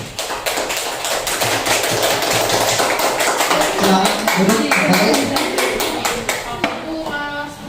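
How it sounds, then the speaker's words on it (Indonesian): A classroom of students gives a round of applause for a presenting student group, a loud, dense patter of close hand claps that tapers off at the end as a teacher begins speaking. "Beri tepuk tangan untuk kelompok 1."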